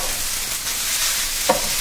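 Kimchi fried rice sizzling in a hot pan as it is stirred, a steady crackling fry with one brief scrape of the utensil.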